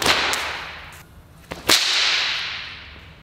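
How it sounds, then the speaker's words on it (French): A whip cracks as its tip breaks the sound barrier: sharp, loud snaps up close, the main crack trailing a whooshing swish, with a fainter snap before it and no talking. "le bruit de l'extrémité du fouet, cette zone-là, là, qui dépasse la vitesse du son"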